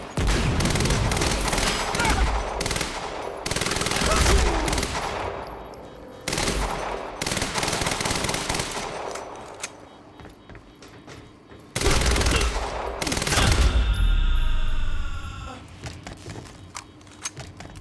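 Gunfire in a video game firefight in Quantum Break, with dense bursts of rapid shots in several loud volleys separated by brief quieter gaps.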